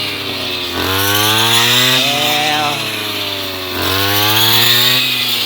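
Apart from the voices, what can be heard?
brush cutter harvesting rice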